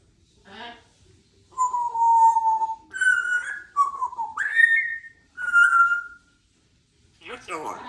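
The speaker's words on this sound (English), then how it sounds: "Brilliant whistle." A talking parrot whistles a series of clear, loud tonal notes with rising and falling slides, close to the microphone, with short pauses between phrases and brief voice sounds at the start and end.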